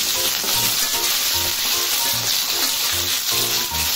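Flat beans stirred and fried in hot oil, giving a loud, continuous sizzle with rhythmic scraping and clinking from the stirring every half second or so.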